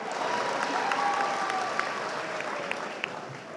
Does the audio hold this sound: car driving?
no